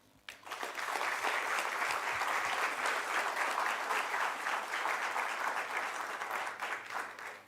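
Sustained, even applause from a lecture audience at a public university lecture in Namibia, a full steady round of clapping lasting several seconds with no talk over it.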